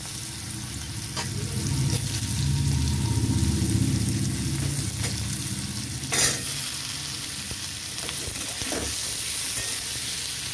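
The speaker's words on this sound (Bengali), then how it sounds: "আমি এবার শসাটাকে দিয়ে দেবো।" Sliced cucumber hits hot oil tempered with cumin seeds and sizzles steadily in the pan, with a few sharp clinks and scrapes of a stirring spoon over the continuous frying hiss.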